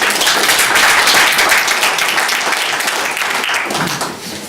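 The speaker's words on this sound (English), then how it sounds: "A round of applause for that." An audience at a village council meeting applauds, a dense burst of many hands clapping that holds steady and then tapers off near the end.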